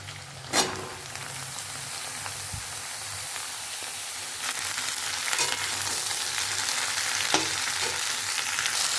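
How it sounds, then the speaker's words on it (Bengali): Flat beans and potatoes fry in a pan. A continuous hissing sizzle runs throughout, broken by a few sharp stirring scrapes and clacks, with no talk. "এইদিকে সিম আর আলু ভাজতে বসিয়েছি"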